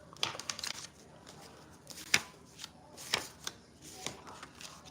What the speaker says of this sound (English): No, these cards ain't yours. Did they get all the way shuffled in?